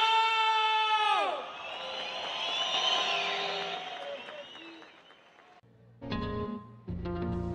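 A sliding tone drops away, then a concert crowd in Colombia cheers and whoops for a performer with some clapping, the noise swelling and fading before music kicks in near the end.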